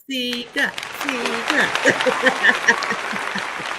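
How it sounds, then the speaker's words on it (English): A podcast host's voice is followed by light hand claps welcoming a guest, several quick uneven claps mixed with cheerful voices and laughter. "Y'all give Sika some hand claps."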